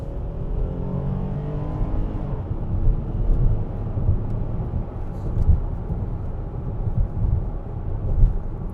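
A 2020 Hyundai Palisade AWD V6 SUV accelerates from a standstill, heard from inside the cabin as a steady low engine hum whose pitch rises through the gears, blended with road rumble, with no speech.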